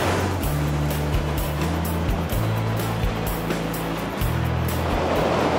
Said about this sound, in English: we use itemized sprays of water to cool the sheet